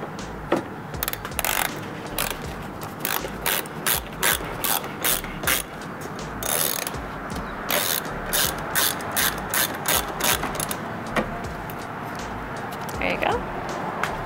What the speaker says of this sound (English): Back to our socket wrench.